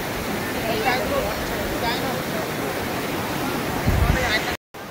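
Steady, broadband rush of the Thmar Rong waterfall pouring over rock, a continuous roar filling the scene with a brief low thump near the end and a short dropout.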